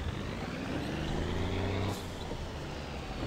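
Truck engine in My Summer Car, reversing after a crash: a steady low diesel drone with a tonal whine that drops out near the two-second mark, leaving a broadband engine rumble.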